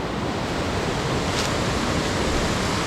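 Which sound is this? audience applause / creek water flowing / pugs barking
creek water flowing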